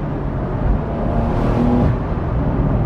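A Porsche 911 GTS Cabriolet accelerates hard, its engine a loud, continuous roar that builds steadily, heard from inside the car with wind noise and no talking.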